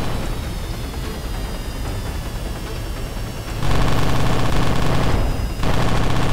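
Aircraft cannons fire in a flight simulator game, loud sustained bursts of rapid gunfire that start partway in, pause briefly and resume, rising over a steady engine drone.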